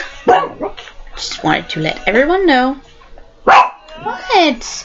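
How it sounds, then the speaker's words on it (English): A pet dog barks in short yips close by, interrupting a person speaking to the camera, with talk continuing over and between the barks. "That's my dog"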